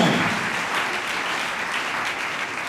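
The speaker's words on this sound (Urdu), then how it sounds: "تالیاں بجا کر خدا کا شکر ادا کریں" Church youth session audience clapping together in a sustained, dense round of applause, loud and close, fading slightly toward the end.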